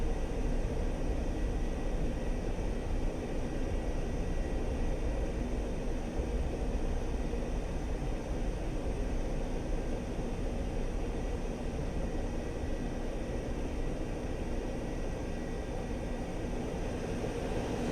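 A military jet taxiing toward the runway in Digital Combat Simulator, its engines giving a steady, unbroken roar and whine that holds constant and fairly loud throughout with no pauses.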